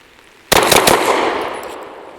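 A Derya Arms DY9 shotgun fires a quick burst of several shots, loud and close, with the report ringing and decaying over the next second and a half.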